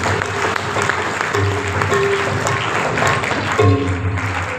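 A church congregation on Christmas Day claps for the Punjab police, steady, loud, fairly dense applause filling the whole stretch, with a few indistinct voices mixed in.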